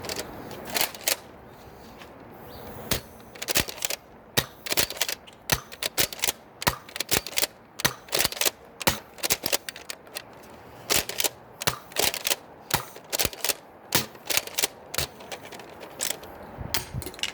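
An X-Shot Regenerator toy blaster fires X-Shot foam darts down a range, making a rapid series of sharp, close clicks and snaps in quick bursts, with short pauses between volleys.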